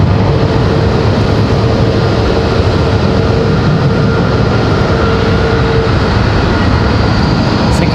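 An Air Canada airliner departs Raleigh-Durham airport for Montreal, its jet engines a loud, steady, broadband roar that holds without letup throughout.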